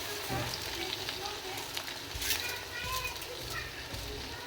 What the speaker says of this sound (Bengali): এখন পোলার চাল ঢেলে দিলাম।